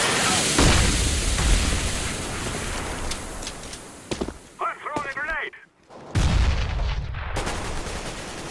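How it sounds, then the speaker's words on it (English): Gunfire and explosive bangs in a Counter-Strike: Global Offensive match, where a flashbang grenade is thrown. Loud, dense shots and booms fill most of the stretch, with a brief lull carrying a muffled voice before the firing resumes. "I throw the flashbang."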